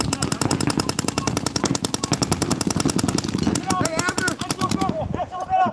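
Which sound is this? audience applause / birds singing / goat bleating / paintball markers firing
paintball markers firing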